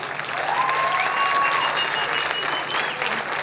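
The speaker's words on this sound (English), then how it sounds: "Please give another round of applause for Leo on trumpet." Crowd applause for a trumpet player at a high school jazz concert, a short dense burst with faint whoops and cheers rising through it.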